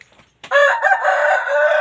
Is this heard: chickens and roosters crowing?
yes